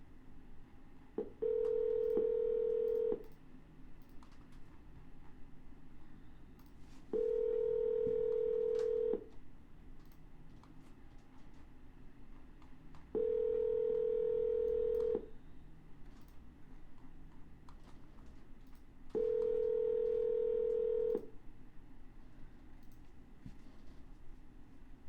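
Four bursts of telephone DTMF dialing tones during a double dial on a cold call, each a steady two-tone beep lasting about two seconds, spaced evenly over a quiet line hiss.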